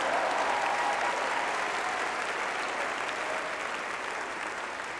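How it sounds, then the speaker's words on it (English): A church congregation claps together in sustained, even applause, a dense wash of hands that holds steady throughout at a moderately loud level. "Come on, church, give a clap to Jesus."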